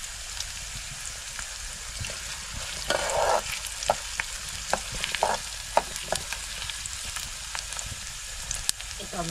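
Onions sautéing in a pan in a village kitchen, a continuous close sizzle with repeated spatula scrapes and taps, without speech.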